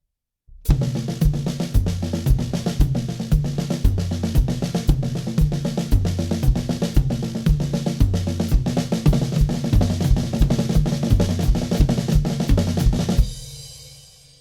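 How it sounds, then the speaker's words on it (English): A drum kit plays a steady, busy paradiddle sticking pattern with hi-hat and bass drum pulsing in quarter notes beneath, loud and close, ending with a ringing cymbal decay. "play the hi-hat and the bass drum together in quarter notes to go along with that"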